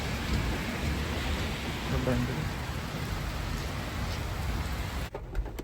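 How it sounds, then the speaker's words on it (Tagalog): Heavy rain pours steadily in a Canadian city at dusk, a dense, even hiss that fills the clip, while a person speaks briefly over it before the sound cuts off near the end. "Grabe ang ulan. Sobrang lakas."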